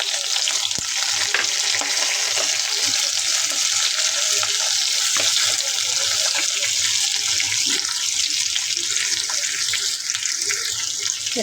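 Onions frying in a pan give a dense, constant hiss of sizzling, loud and close, with light scraping from stirring now and then and no voices.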